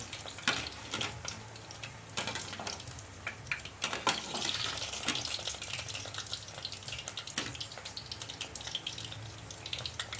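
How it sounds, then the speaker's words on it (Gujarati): Gota fritters deep-frying in hot oil for Kathiyawadi-style undhiyu, a steady crackling bubbling with scattered sharp pops and ticks running throughout, close and moderately loud, with no talking. "તો આપણે ગોટા સરસ રીતે કલર એકદમ ગોલ્ડન બ્રાઉન થઈ જાય ત્યાં સુધી આપણે તળી લઈશું."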